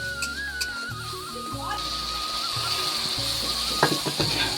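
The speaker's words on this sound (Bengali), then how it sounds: "তারপরে আদা রসুন বাটাটা একসাথে কড়াইয়ে ঢেলে দিলাম" Ginger-garlic paste and spices fry in a hot wok, a continuous close sizzle with occasional scraping and stirring. A hum runs beneath it and there is no speech.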